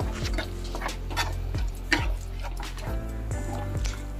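A chicken patty mixture with chilli powder and tandoori masala is mixed in a bowl, making soft, wet squelching and repeated clinks and scrapes, fairly quiet and close, with no speech.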